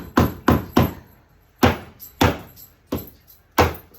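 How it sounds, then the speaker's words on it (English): Sharp, loud chisel strikes against a baseboard during kitchen demolition, in irregular bursts of three close hits, a pause, then several more spaced impacts, with no talking. "I had to chisel that whole spot."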